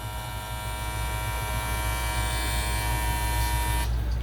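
A GAMMA+ Cyborg electric hair clipper buzzes steadily with a low motor hum throughout, close and constant, cutting off abruptly just before the end.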